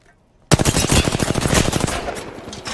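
Loud rapid automatic gunfire from Apex Legends breaks out suddenly after a moment of quiet, a sustained burst of fast, evenly spaced shots that tapers slightly toward the end.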